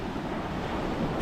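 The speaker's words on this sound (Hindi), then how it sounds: "ये अरब सागर की तलहटी पे जो लहरें हैं समुद्र की, अरब सागर की" Arabian Sea waves wash onto a beach at Daman, Gujarat, a short, steady hiss and rumble of surf with wind noise that stops abruptly.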